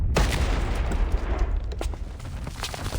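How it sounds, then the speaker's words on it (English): In the video game Reverse 1999, during the Atomic Heart collab, an explosion blows a door apart with a dense, rumbling burst of crackling blasts and debris. The blasts go on for a few seconds and no voices are heard. "The explosion sends smoke and dust flying in all directions."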